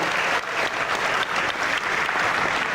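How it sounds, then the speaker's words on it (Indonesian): A large audience at the first 2024 presidential candidates' debate applauds the candidates, giving dense, loud, sustained clapping that fills the room at an even level throughout. "memberikan apresiasi tepuk tangan kepada seluruh calon presiden yang sudah menyampaikan visi misinya"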